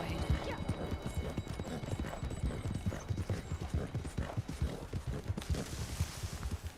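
Horse hooves clip-clop in a regular walking rhythm in Red Dead Redemption 2, close and fairly loud, with game ambience and a brief airy swell near the end.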